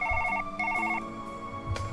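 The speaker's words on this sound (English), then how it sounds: "Why is the phone ringing?" A telephone rings in two bursts of rapid electronic trilling tones, each about a quarter second long, followed by a brief tonal chirp; loud and close with no speech.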